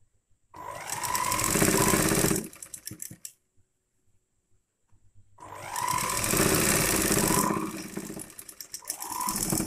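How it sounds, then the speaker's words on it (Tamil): Sewing machine stitching a pillow cover runs in two sustained bursts of a couple of seconds each, a steady fast whirring chatter, separated by a pause with faint handling clicks. "இந்த மாதிரி ஸ்டிச் பண்ணி எடுத்துக்கோங்க"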